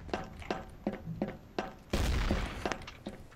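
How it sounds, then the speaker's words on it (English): Explosions and gunfire in the game Trouble in Terrorist Town: a string of punchy booms and shots in irregular rhythm, then a bigger blast with a burst of noise, fairly loud and unaccompanied by speech. "Barrels are exploding."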